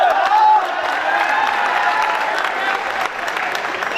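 Audience applause fills a hall at a hostel day function, a steady, fairly loud wash of clapping mixed with crowd noise and faint voices, holding throughout.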